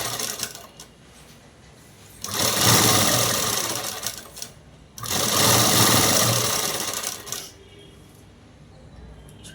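A sewing machine runs in two sustained bursts of stitching on a long frock with box pleats, loud and whirring close by, separated by quieter pauses with faint handling noise.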